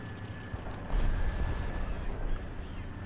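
One heavy tank cannon blast in a video game booms about a second in, followed by a low rumbling tail that slowly fades.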